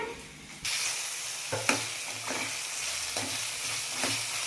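Tomatoes hit a hot pan with prawns and fry in a loud, continuous sizzle, broken by a few scraping stirs of a spatula, close and even throughout.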